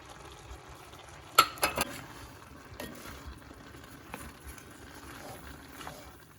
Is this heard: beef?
yes